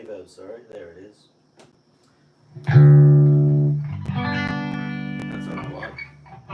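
Electric guitar run through delay and reverb effects, a low sustained note ringing loud then trailing into a lingering, echoing wash of chords, with faint talk before it.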